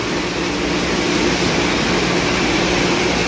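Irrigation water flowing on a farm in Al-Kharj, Saudi Arabia, a loud continuous rushing hiss with no pauses, close and steady throughout.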